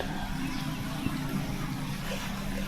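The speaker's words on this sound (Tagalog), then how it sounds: "maririnig po natin yung agos ng tubig" A clear river flows near a farmhouse, its water rushing in a steady, unbroken wash that stays even and fairly close throughout.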